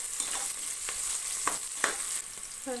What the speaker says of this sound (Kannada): ಮೆಂತ್ಯ ಸೊಪ್ಪು ಕೂಡ ಚೆನ್ನಾಗಿ ಫ್ರೈ ಆಗಿದೆ